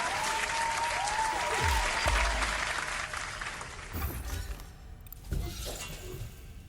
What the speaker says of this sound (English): That's worthy of some applause.